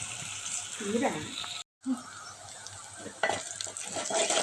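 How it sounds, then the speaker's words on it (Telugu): Onion pieces fry in a pan ahead of okra being added, a close, busy crackle and sizzle with stirring noises and a voice briefly audible, cut by a short dropout midway. "ఉల్లిపాయ ముక్కలు అయితే ఫ్రై అయిపోతాయి"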